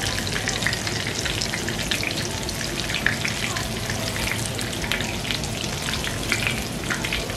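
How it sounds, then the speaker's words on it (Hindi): Scotch eggs fry in oil over a medium-low flame, giving a steady, close sizzle with dense popping and crackling throughout and no voices. "मीडियम लो फ्लेम पे इन्हें फ्राई करें ताकि ये अच्छे तरीके से फ्राई हो जाएं"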